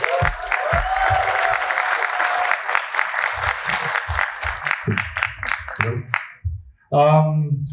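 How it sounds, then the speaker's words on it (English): Audience applause welcoming a speaker onto the stage at a design event, steady dense clapping that fades out near the end, followed by a brief burst of loud noise. "Let's welcome him with a big round of applause."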